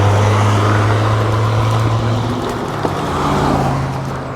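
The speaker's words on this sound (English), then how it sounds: "Let's let this car go" A car drives past on a road, a steady rushing engine and tire roar that swells and fades under constant wind noise heard from a moving electric bike.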